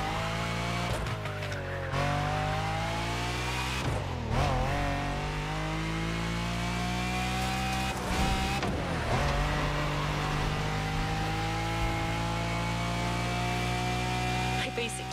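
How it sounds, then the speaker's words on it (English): A Lamborghini Diablo in The Crew Motorfest racing game gives a steady engine drone with repeated gear changes and rising revs over about fifteen seconds, loud and continuous. "Of course, we're talking about the sensational Lamborghini Diablo."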